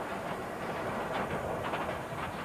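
A tourist autoferro rail car running on a track in Ecuador gives a steady, moderately loud rumble with faint rhythmic clatter from the wheels, with no voices.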